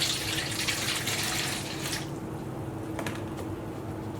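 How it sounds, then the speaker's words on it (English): Warm water is poured into a mixing bowl while making Georgian khachapuri dough, giving a steady splashing pour for about two seconds that then drops to a quieter trickle and a few faint drips. "we're going to start by adding in 1 cup of warm water"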